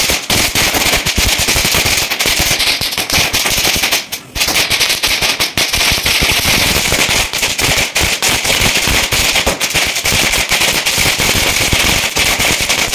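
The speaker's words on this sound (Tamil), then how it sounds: "நான் ஒரு பட்டாசு வச்சிருக்கேன்" Firecrackers burst in a rapid, loud, continuous crackling barrage, with a brief lull before the popping resumes.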